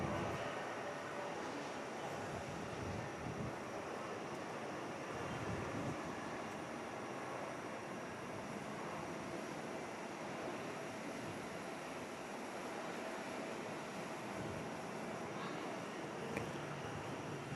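Quokka-liveried airliner on its takeoff roll at Perth Airport, a distant, steady jet engine rumble sustained throughout, fairly faint and broad.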